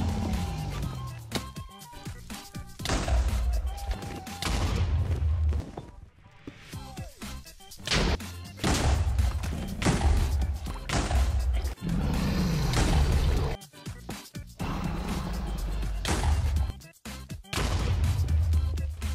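End crystals being blown up in Minecraft: repeated loud booming blasts and crashes come in quick succession, with brief gaps between bursts, over a continuous busy game soundscape.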